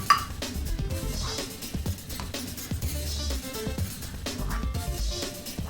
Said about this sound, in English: So let's dish up.